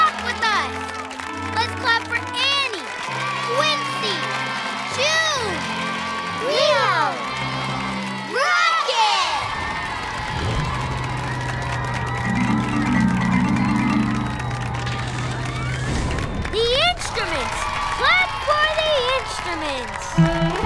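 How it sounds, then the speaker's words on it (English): Children cheer, shout and whoop for the team at a curtain call, bursts of excited young voices that come and go over music, with a sung passage midway and a lively adult voice leading the crowd. "Let's clap for our team! Clap with us!"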